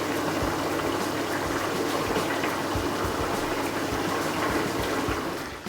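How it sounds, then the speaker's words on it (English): Paneer masala simmers and sizzles in a pan, a dense, constant bubbling crackle heard up close with small pops scattered through it, steady throughout and easing slightly at the end. "Can you hear that sizzling away?"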